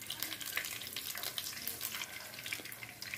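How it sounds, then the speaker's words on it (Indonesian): A soft, steady crackling hiss of chicken frying in hot oil in a wok, fairly quiet and continuous with no talking. "kita masukkan dulu semua ayam ke dalam wajan yang minyak gorengnya sudah mulai panas ya"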